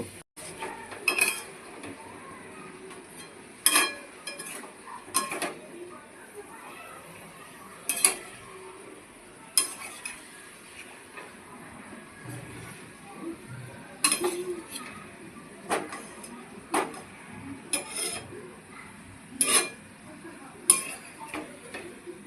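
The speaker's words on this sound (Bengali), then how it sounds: "এবার এঁচোড়গুলো দিয়ে দেবো ভালো করে কষিয়ে নেব" Young jackfruit and potato being stir-fried in a home kitchen pan, with repeated sharp clinks and scrapes of a metal spatula against the pan over a low background sizzle, irregular and close.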